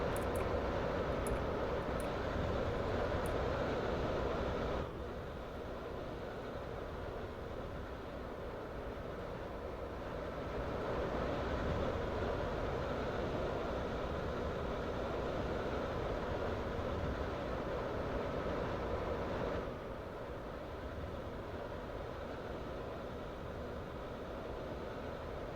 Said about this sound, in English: This train is now approaching Newry Harbour.